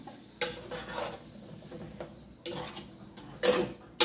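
A spoon stirs liver and onions in a pan, giving repeated clanks and scrapes of metal on metal at uneven intervals with a faint sizzle underneath. No one talks.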